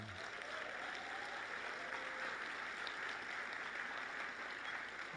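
Audience applause at a performing arts awards ceremony and luncheon in New York, a steady, even wash of clapping from a large room that holds at a moderate, somewhat distant level for the whole stretch.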